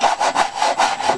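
Sandpaper rubs back and forth over the wooden ribs of a model Sopwith Pup fuselage, a close, loud rasp in quick even strokes, about six passes with short gaps between them.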